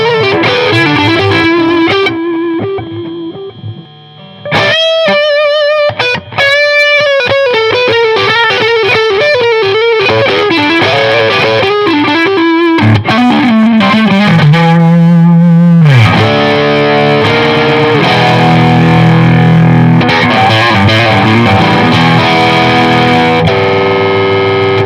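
Electric guitar plays a lead line through a pedal board of effects, loud and heavily distorted, with sustained bending notes, fast runs and a brief drop near the start, continuous for about twenty-five seconds.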